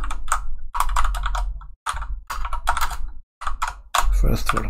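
Fast typing on a computer keyboard while entering a Linux terminal command, with crisp keystrokes grouped into several bursts and short pauses between them, close and loud.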